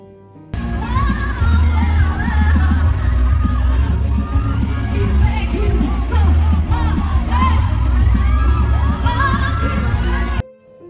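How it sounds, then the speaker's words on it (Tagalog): An audience at a concert cheers and screams without a break. A loud, dense wall of crowd noise and shrill voices rises suddenly and keeps going for about ten seconds before it cuts off. "Talagang napakasaya ang audience, walang tigil ang hiyawan o sigawan."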